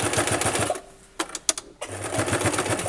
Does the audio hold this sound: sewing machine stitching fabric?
yes